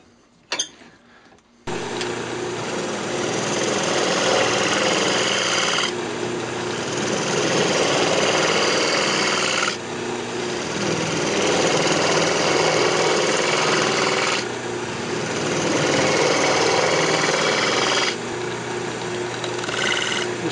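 A wood lathe turns a maple box lid while a square scraper cleans the edge, giving a loud continuous whirring grind with rhythmic swells every few seconds after a brief quiet start.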